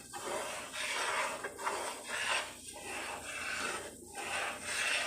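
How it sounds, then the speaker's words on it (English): A flat-edged spoon scrapes steadily around the bottom of a pot of flour roux for gumbo, a continuous close rasping with rhythmic sweeps, fairly quiet and with no talk over it. "You want to continue to stir this so it doesn't burn, because if you burn your roux, you got to start all over from scratch."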